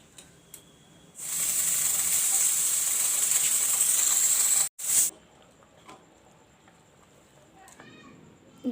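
A pressure cooker cooking dal gives a loud, steady hissing whistle of escaping steam for about three and a half seconds, cuts off, then bursts briefly again before fading to quiet kitchen background.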